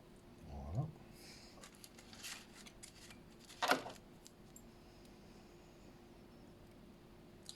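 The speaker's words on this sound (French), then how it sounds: "Je coupe l'excédent de tinsel." Scissors snip off excess tinsel during fly tying, a couple of small, faint cuts standing out against quiet room noise, with one sharper crisp snip in the middle.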